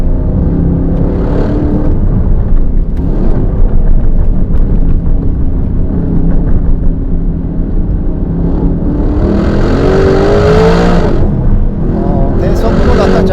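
A 2025 Aston Martin Vantage engine pulling hard on a winding road, a loud steady drone that rises sharply toward the end, with someone talking over it.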